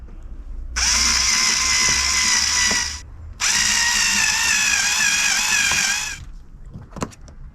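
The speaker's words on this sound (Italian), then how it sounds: "adesso possiamo avvitare le ultime due viti" A power drill drives the last two screws into a HEOSafe camper door lock, two sustained whirring runs of a few seconds each with a brief pause between, followed by small clicks as it stops.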